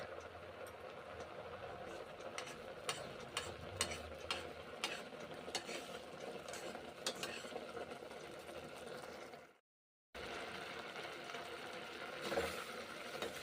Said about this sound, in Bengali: গাওয়া ঘি দিচ্ছি ডালিয়াতে।